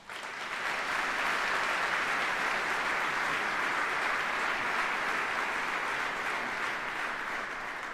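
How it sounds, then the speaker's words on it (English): A large audience at a military retirement ceremony gives senior NCOs a round of applause, sustained even, distant-sounding clapping that swells in and holds steady for several seconds. "Please give them a round of applause"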